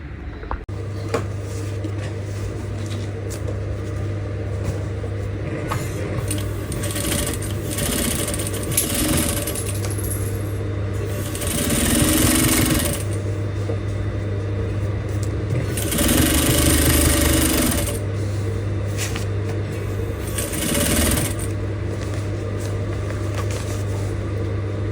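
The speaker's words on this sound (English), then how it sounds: "Then you're going to drag your elastic and sew." A sewing machine stitches elastic onto an Ankara fabric puff sleeve, running in several steady bursts with short pauses between them, close and clear with no talking.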